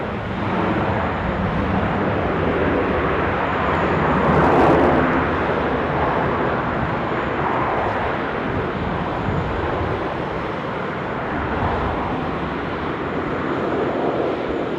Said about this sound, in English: We've got Rex 737 coming in now.